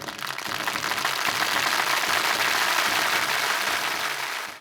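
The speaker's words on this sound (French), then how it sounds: "On t'applaudit." Audience applause from a French studio talk show, a dense wash of clapping that swells quickly and holds loud and steady before easing off at the end.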